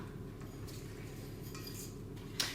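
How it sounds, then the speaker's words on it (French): Eggs being whisked by hand in a bowl with a utensil for banana chocolate bear cakes, a soft continuous scraping and stirring with faint clinks and one sharper tap near the end, no voices. "Donc là, les œufs, je vais déjà mélanger un petit peu"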